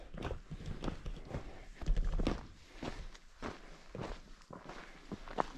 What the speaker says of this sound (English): All you hear are footsteps.